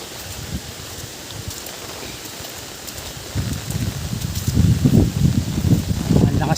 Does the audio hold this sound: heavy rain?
yes